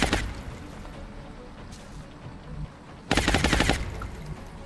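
Sharp bursts of automatic gunfire ring out in the turn-based tactics game XCOM Long War, with a brief volley at the start and a longer, louder rattling burst near the end.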